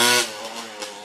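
A freshly rebuilt Yamaha Blaster two-stroke ATV engine revs loudly and close, a brief raspy burst that quickly settles into a rougher idle-like drone.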